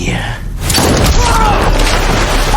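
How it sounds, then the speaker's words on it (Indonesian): A loud, sharp gunshot in a film scene bursts out over a dense, rumbling soundtrack, with heavy low-end impact and continuous background noise. "langsung meluncurkan satu tembakan manisnya"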